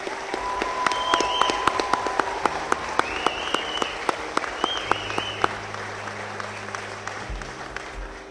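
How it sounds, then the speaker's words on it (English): An audience at a mounted patrol graduation gives steady applause, a dense wash of clapping with a few sharp individual claps standing out, with faint voices underneath. "Can I get a round of applause for our entire unit?"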